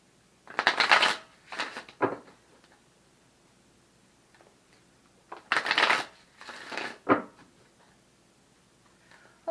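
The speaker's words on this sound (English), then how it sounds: "let's go ahead and shuffle the next deck" A deck of cards riffle-shuffled by hand, two bursts of crisp flapping and snapping near the start and again about midway, each followed by short taps, with quiet pauses between.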